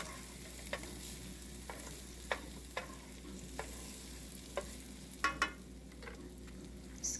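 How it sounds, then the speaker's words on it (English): Cabbage with pepper frying in a pan for a beef and cabbage casserole, a steady low sizzle broken by a series of sharp scraping clicks as a utensil stirs it, close up with no talking. "Gonna add some pepper. Stir it around a bit. Keep stirring. You don't want it to burn."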